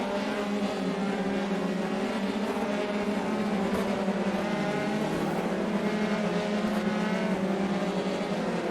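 F3 race cars run in the iRacing video game with a continuous, loud, high-revving engine drone and layered motor tones from several cars, steady throughout with no talk.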